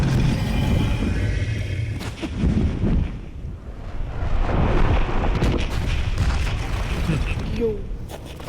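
Roblox Blox Fruits gameplay shows a control fruit attack as loud, dense booming and rumbling game effects that continue throughout, with a voice talking over part of it.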